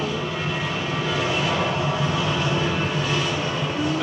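Steady, loud aircraft engine drone from an airplane passing overhead, a broad continuous roar that holds evenly for several seconds with no voices.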